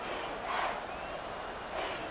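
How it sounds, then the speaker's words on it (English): Stadium crowd noise in the Madden 24 football video game swelling during a big play, a dense, steady roar of cheering that rises and falls slightly. "A big play here as the crowd noise rises."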